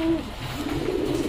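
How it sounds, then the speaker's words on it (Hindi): Pet pigeons kept on a terrace covered over with plastic sheeting coo softly and close by for a brief moment, with steady room noise beneath. "और अपने कबूतर ये हैं दोस्तों,"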